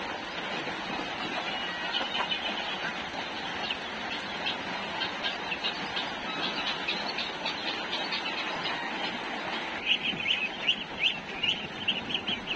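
A flock of large farm ducks and native ducks (itik) squawk and quack continuously, a dense overlapping chorus of calls at moderate distance, no talking.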